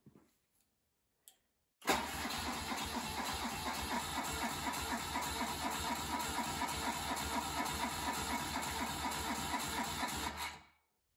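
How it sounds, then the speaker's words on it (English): A 1970s BMW R60/5 airhead motorcycle engine cranks over on its starter during a compression test, a steady rhythmic whirring churn for about nine seconds after a couple of brief clicks, then stops abruptly. "I was able to turn over the engine a couple times"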